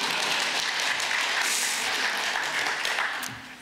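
Steady applause from a church congregation during a Sunday sermon, a dense wash of clapping that holds evenly and starts to fade near the end.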